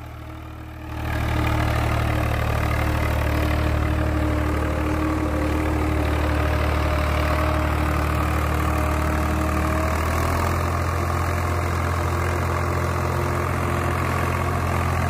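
A Swaraj 735 tractor pulling an 11-tine cultivator starts up and runs steadily, its loud diesel engine droning and knocking close by without a break and with no talk over it.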